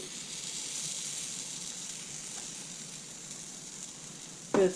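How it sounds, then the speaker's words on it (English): Steady hissing sizzle of pancake batter frying in a hot pan, continuous and fairly quiet, with a brief clatter near the end. "Hear the sizzle? That's what you want."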